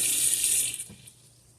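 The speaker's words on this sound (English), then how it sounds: "and then I'll rinse them off." Running tap water splashes in a sink as items are rinsed, a close steady hiss that cuts off abruptly after about a second, leaving quiet.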